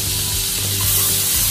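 Butter sizzling in a hot kadai for paneer butter masala, a dense steady crackle and hiss close by with light stirring, no voices.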